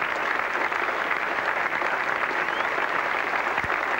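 A large cricket crowd at Edgbaston applauds a century in the England v Australia Test match of 1985, with loud, sustained, dense clapping and cheering throughout.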